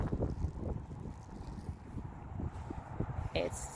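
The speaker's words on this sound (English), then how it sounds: "It's so windy up here." Gusty wind buffets the microphone in rough, uneven bursts, loud and close, with a brief higher-pitched sound near the end.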